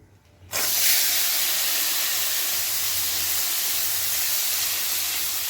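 Bitter gourd dropped into hot oil bursts into a loud, steady hiss of frying that holds evenly without letup, close and alone with no talking.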